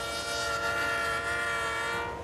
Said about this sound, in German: Der fast 2 Kilometer lange Zug fuhr ca. 80 Kilometer pro Stunde.